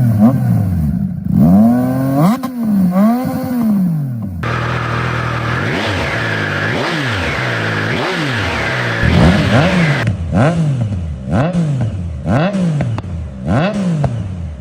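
A Triumph Tiger 800 triple motorcycle on its stock exhaust revs repeatedly, each throttle blip rising and falling in sharp, loud surges over a steady idle, close and clear with no talk.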